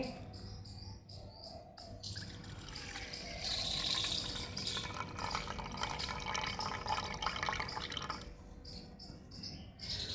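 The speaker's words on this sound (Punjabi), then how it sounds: "ਆ ਜਿਹੜਾ ਪਾਣੀ ਆਪਾਂ ਇਹ ਕੱਢ ਦਿਆਂਗੇ" Water trickles and pours steadily for several seconds as it drains from washed rice, with a brighter splashing rush midway and faint insect-like chirping in the background.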